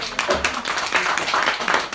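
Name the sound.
meeting audience applause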